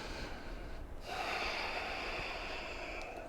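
Deep breathing during a strong vinyasa yoga flow in a full wheel backbend: a steady, close breathy hiss that swells into a long, sustained exhale, with no talk.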